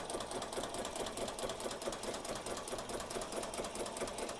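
An embroidery sewing machine stitches yarn at slow speed, a steady rapid mechanical needle clatter running continuously and close without voices.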